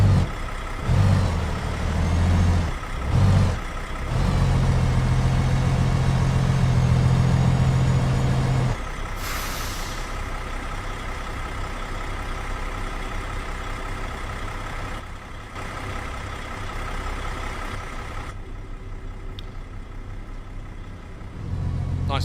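A heavy truck engine in American Truck Simulator drones steadily in the foreground, loud at first and settling into a lower, quieter rumble partway through, with a brief hiss near the middle and no talk.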